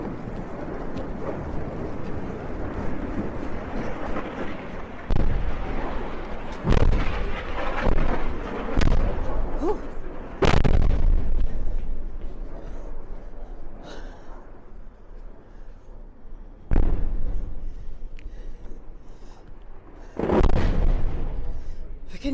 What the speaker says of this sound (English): We can hear the sudden rocket attacks right now during Sderot. It is very close, being intercepted by the Iron Dome